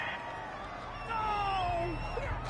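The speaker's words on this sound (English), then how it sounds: "This home crowd, they're happy with that call." A home stadium crowd in a Madden football game roars in approval of a referee's call, a swelling distant cheer with whoops rising over steady crowd murmur and broadcast commentary.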